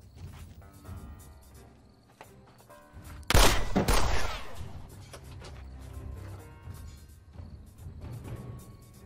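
Gunshots in a mafia action film, a sudden loud burst of rapid shots around the middle with crashing debris, framed by quieter rustling and mechanical noises.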